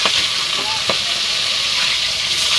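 Pieces of rohu fish fry in hot oil, giving a loud, continuous close-up sizzle with faint crackles and no talk over it.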